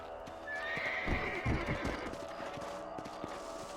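A horse whinnies loudly, with hooves clopping beneath it, in Red Dead Redemption game audio with no talking.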